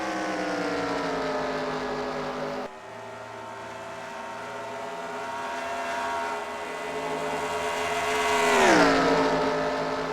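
NASCAR stock cars in the NASCAR Racing 2003 video game at Michigan Speedway give off a steady engine drone that swells, then drops in pitch as a car passes close by near the end, with no talk over it.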